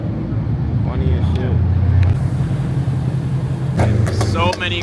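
Car engines rumble steadily through a busy street during an Ocean City cruise week, a constant low drone with occasional louder passes, while people talk excitedly close by.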